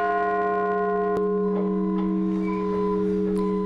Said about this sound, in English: those with MSU Billings rang a commemorative bell as part of MLK events